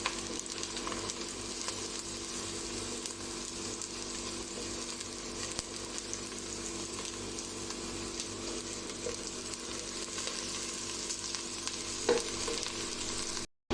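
Half a spoon of cumin seeds fries in two to three tablespoons of cooking oil in a pan, a constant, even sizzle that runs unbroken for the whole stretch with no talking.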